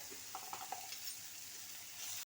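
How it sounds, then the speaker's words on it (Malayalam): Onions being sautéed and stirred in a pan over a flame with salt and turmeric added, a steady close sizzle with a few soft clinks of the spoon early on, no talk. "ഇനി ചെരിയൊന്ന് കൂട്ടി നമുക്കിത് നല്ലതുപോലെ ഒന്ന് വഴറ്റിയെടുക്കാം"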